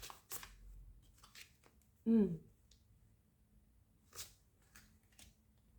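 Tarot cards are handled and shuffled in short bursts of soft riffling and slaps, with one sharper snap in the middle, close and fairly quiet, amid a near-silent room.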